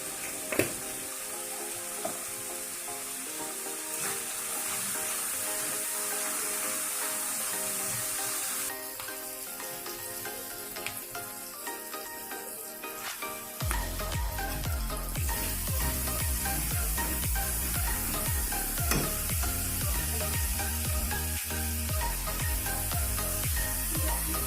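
Ground spices, garam masala and cumin powder, frying in a pan while cooking for a birthday meal, a steady close sizzle with clinks of a spoon and stirring, growing louder and fuller partway through, with no talk.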